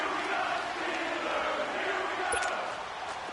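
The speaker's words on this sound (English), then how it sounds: "the crowd getting into it as we come up on a big third down" A football video game stadium crowd roars faintly in a steady, distant wash of cheering that swells slightly and tapers near the end.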